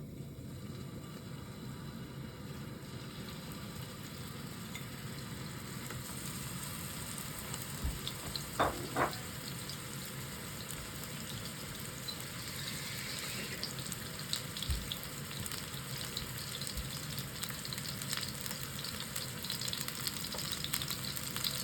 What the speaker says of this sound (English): Then slowly we are going to put this hamburger one by one.